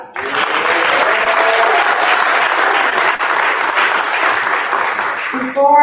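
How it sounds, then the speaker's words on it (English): Families applaud at an Atlanta Fire Rescue recruit graduation ceremony, a sustained, loud roomful of clapping lasting several seconds, ending abruptly as a voice begins over a microphone. "Okay, families, one last round of applause."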